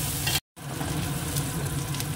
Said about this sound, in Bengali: পেঁয়াজ কাঁচা লঙ্কা ভাজা হয়ে গেছে